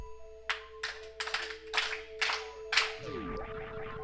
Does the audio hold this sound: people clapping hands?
yes